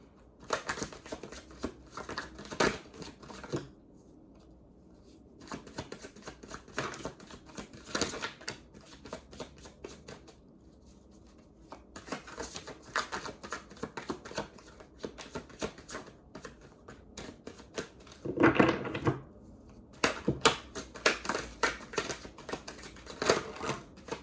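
A deck of tarot cards is shuffled over and over at close range in a crisp, rapid riffle-and-slap rhythm, coming in bursts with short pauses between them.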